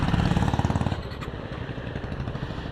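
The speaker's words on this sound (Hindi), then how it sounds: "बाइक स्टार्ट हो गया भाई का" A Suzuki Gixxer SF 155 motorcycle engine runs close by after being restarted on service day, with a loud, rapid pulsing putter that eases to a steadier, lower idle.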